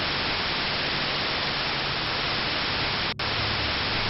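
Television static white noise from the Fear & Hunger video game, a loud steady hiss filling the whole stretch with a faint hum beneath and one split-second dropout near the end.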